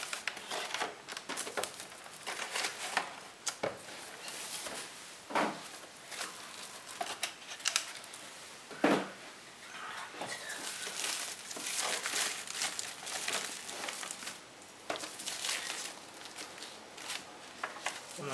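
Packaging crinkles and rustles steadily at close range as a Sony PlayStation 4 1 TB console bundled with Assassin's Creed Syndicate is unboxed, with several sharper crackling bursts along the way.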